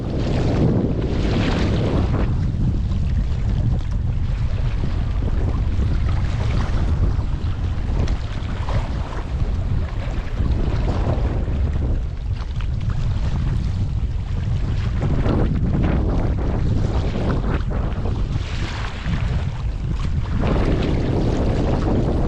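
Steady, heavy 55-knot wind buffeting the microphone, with a constant low roar and gusty swells, over rushing water and the rumble of a moving boat.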